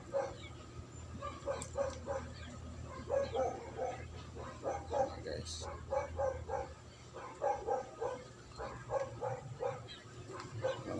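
A dog barks and yips repeatedly in short bursts at moderate distance outdoors near a school garden, faint against steady background noise, with no clear speech.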